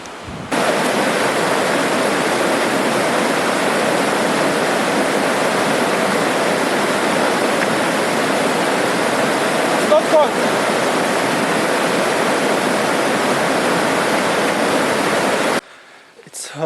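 River water rushes under a bridge on a mountain road in a loud, steady broadband roar that fills nearly the whole stretch before cutting off abruptly near the end.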